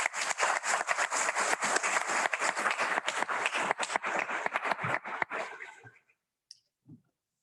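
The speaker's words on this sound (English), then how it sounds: "So let's all give them a round of applause." Audience applause at an engineering academy awards ceremony: dense, steady clapping from a crowd that holds for about six seconds, then cuts off abruptly, leaving near silence with a couple of faint stray claps.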